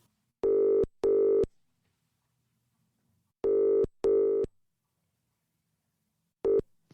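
Tone dialing on a new mobile phone: bright, steady keypad beeps in clear bursts, a pair near the start, another pair mid-way and a single short beep at the end, with silence between them.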